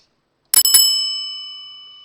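A notification bell sound effect: two quick bright dings in succession, then a clear metallic ring that decays slowly over more than a second, loud and alone against silence.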